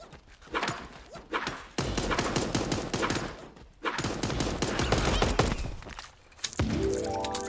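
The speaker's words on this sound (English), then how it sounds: "This one's modified so it sounds like it's shooting fireworks whenever it fires" Modified tommy gun in Super Animal Royale firing fireworks-style rounds in long crackling bursts, several sustained volleys separated by brief pauses, loud and close, ending with a short tonal chime.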